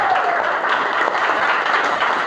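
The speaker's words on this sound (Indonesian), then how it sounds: "tepuk tangan untuk kita semuanya" Steady applause from an audience at a public speaking training session, a dense patter of clapping hands that stays even throughout.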